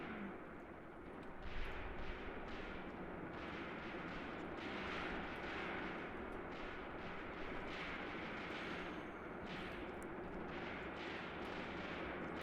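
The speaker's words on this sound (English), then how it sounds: "Let's go check out our machine guns and see what they're doing." Sustained distant machine-gun crossfire and rumbling battle noise from a WW2 game in Graviteam Tactics, a continuous wash of bursts and thuds across a hillside at steady loudness with no talk.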